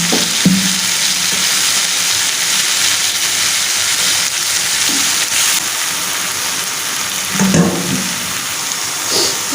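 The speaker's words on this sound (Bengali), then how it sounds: "এবার আমি এটা ভালো করে আলু আর কুমড়োর সাথে এটা ভালো করে একটু ভেজে নেব।" Salted, squeezed banana stem sizzles in a wok alongside potato and pumpkin, a steady broad frying hiss with occasional soft stirring knocks, close and even throughout.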